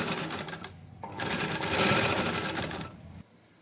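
Electric sewing machine stitching the edge of a belted shalwar with buckram folded inside, a steady rapid needle chatter that slows, then surges louder and denser mid-run before stopping abruptly near the end.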